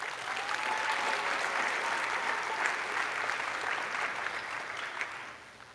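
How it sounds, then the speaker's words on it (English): Applause for teachers and parents at an elementary school fifth grade promotion ceremony, a sustained wash of crowd clapping at moderate volume that tapers off at the end, with a voice faintly audible beneath. "let's give a round of applause for the teachers and parents"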